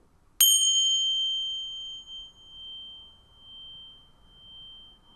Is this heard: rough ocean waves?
no